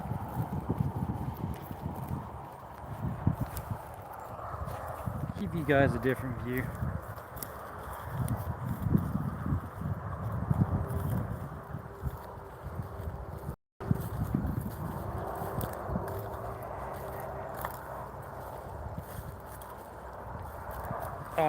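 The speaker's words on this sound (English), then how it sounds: "Going down to see more horses." Horses walking on a horse farm, hooves clip-clopping in an irregular close rhythm along with rustling, while people talk over them.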